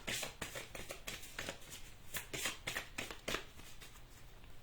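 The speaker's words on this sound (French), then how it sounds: "je vais remettre les 3 cartes que j'avais tirées dans le paquet" Tarot cards being shuffled back into the deck, a quick series of soft riffling flicks and slaps, close and quiet, with no talking.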